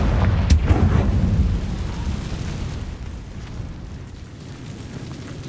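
Explosive burst from the Confringo fire spell in Hogwarts Legacy, a loud boom at the start followed by a rumbling, crackling decay that slowly fades over several seconds.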